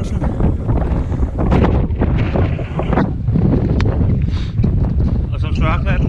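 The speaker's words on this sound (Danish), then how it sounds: "Og som sværklatten render jeg rundt og leger i blæsten, som I nok kan høre." Strong wind on a mountaintop buffets the microphone with constant loud rumbling gusts, while someone talks under the roar.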